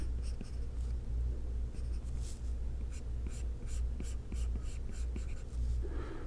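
Pen strokes scratching across paper while sketching reindeer eyeballs in a drawing, a run of short soft scribbles close up over a low steady room hum.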